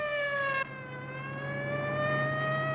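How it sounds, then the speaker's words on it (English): A siren wails loudly on a sustained tone, briefly stepping down in pitch then holding and slowly rising again. "That's when a siren was a siren."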